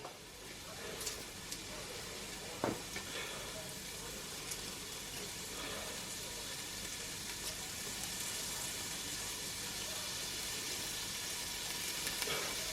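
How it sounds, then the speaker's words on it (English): Faint, steady sizzling of onions in a pan, a soft continuous crackle running throughout with a few light clinks. "you should hear that faint sizzle of the onions starting to cook"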